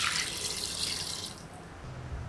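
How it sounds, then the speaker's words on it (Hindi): Water gushes steadily from a tap into a pressure cooker holding chickpeas, turmeric and salt, a brief close splashing pour with nothing else over it. "हम इसमें पानी डाल देंगे"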